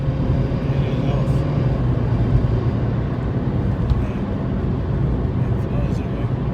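Skoda Fabia VRS pulling onto a dual carriageway, a steady broadband road and engine roar with heavy low-end rumble that stays loud and even throughout, without distinct revving sweeps.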